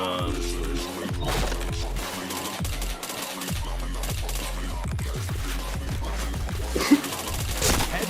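Rapid gunfire bursts and impact sounds from a shooting video game, dense and continuous with game music beneath and a louder hit toward the end.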